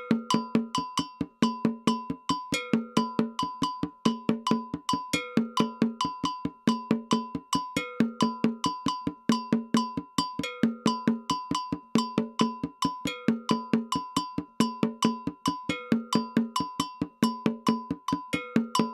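Kiri drum in an African ensemble playing a crisp, repeating pattern of sharp, bright strokes in a fast, steady rhythm that cycles evenly, fairly faint and heard alone without any talking.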